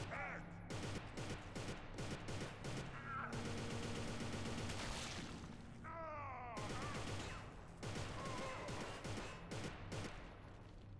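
Gunfire in a war video game with snipers firing crackles in repeated sharp bursts and volleys at low volume, mixed with groaning voices and shouting.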